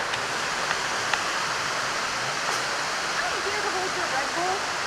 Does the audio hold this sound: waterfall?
yes